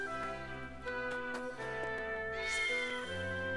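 A cat in the game Triangle Strategy gives a rising meow near the end, heard over soft melodic background music.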